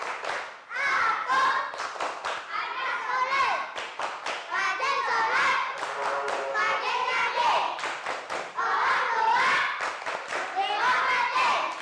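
A class of young schoolchildren performs the 'tepuk semangat' spirit clap, a rhythmic sequence of sharp hand claps and table thumps mixed with chanting and shouting, loud and busy throughout.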